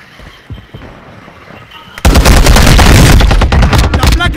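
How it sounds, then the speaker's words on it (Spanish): Gunfire in Call of Duty: Modern Warfare II erupts suddenly after a quieter opening, a loud, dense, continuous burst of rapid shots that dominates the rest of the clip. "La placa recibió un disparo."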